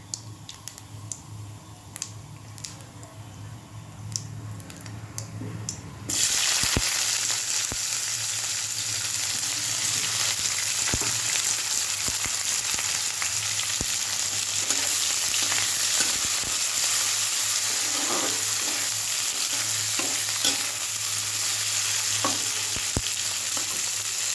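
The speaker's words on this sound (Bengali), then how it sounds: "এবার আমি পেঁয়াজটা দিয়ে দেবো।" Chopped onions, a large amount, go into a pan with bay leaf, and a quiet background suddenly bursts into a loud, sustained sizzle that stays steady, dotted with small pops and stirring clicks.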